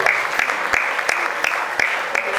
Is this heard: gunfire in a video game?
no